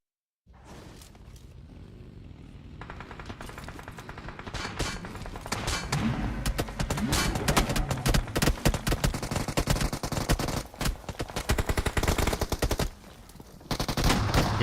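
Gunfire in a PUBG Mobile esports match: sustained rapid automatic bursts build steadily and rattle on densely, loud and continuous, with a brief pause near the end before the firing resumes.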